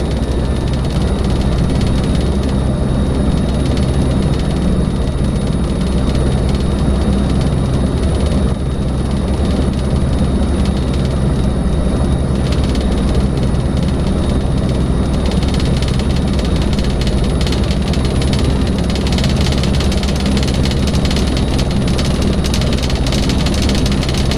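A helicopter in a desktop flight simulator takes off from a runway, its engine and rotor making a loud, steady, dense roar throughout with no talk.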